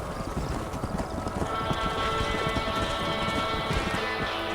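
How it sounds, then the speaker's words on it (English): Hooves of a herd of horses clip-clop steadily in the video game Red Dead Redemption, a dense, continuous clatter of many hoofbeats at close range, with no talk. "Back this way, you bloody horses."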